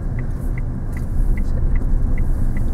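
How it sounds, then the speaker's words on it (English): A car slows in second gear before a turn during a driving lesson, a low steady engine rumble inside the cabin with a soft regular ticking throughout, no voices. "Come down in second now, Tony"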